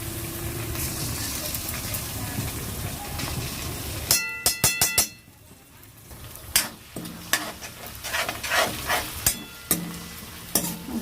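Garlic paste fries and gets stirred in a pan, first with a steady sizzle, then sharp scraping clatters of a utensil against the pan come in bursts between quieter hissing stretches.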